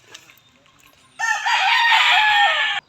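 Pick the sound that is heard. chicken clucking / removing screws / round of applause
chicken clucking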